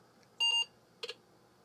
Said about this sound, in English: So that did 2 beeps